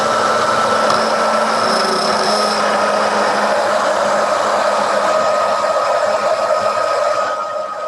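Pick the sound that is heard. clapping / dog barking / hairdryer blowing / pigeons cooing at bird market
hairdryer blowing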